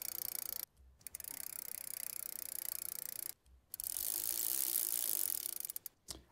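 A bicycle wheel spins with a fast freewheel ratchet ticking. Bursts of whirring clicks are broken by short silences, and the sound is close and fairly loud.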